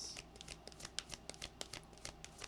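Tarot cards shuffled by hand, a run of crisp papery riffles and flicks, close and soft, with no talking.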